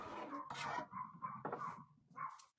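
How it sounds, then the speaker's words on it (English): Dogs bark and yip indoors in a craft barn, a quick run of several muffled, fairly faint barks in a loose, uneven rhythm. "There's the dogs. They heard me."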